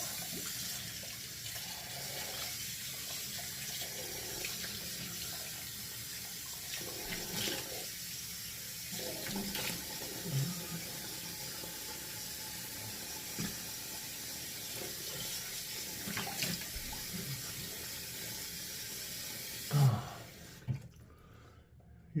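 Tap water running into a sink to wet a face before shaving, a steady close hiss of flowing water with occasional splashes and handling noises, stopping near the end.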